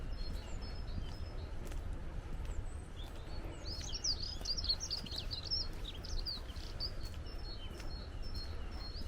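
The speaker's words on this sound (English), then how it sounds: "Just listen to those birds." Birds chirp and sing through the air on a misty, rainy February walking trail, with a steady stream of bright, scattered calls and a soft broadband background of rain or wind. No one speaks.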